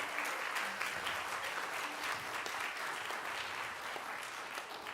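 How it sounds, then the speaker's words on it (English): An audience at a school jazz and percussion ensemble concert gives the band students a round of applause, a dense, sustained clapping from a room full of people that holds steady throughout. "one more thank you and round of applause for all the other band kids in the room"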